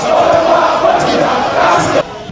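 A massed crowd of MRC supporters at a political rally for Maurice Kamto cheers and shouts loudly, the roar holding steady before dropping abruptly near the end.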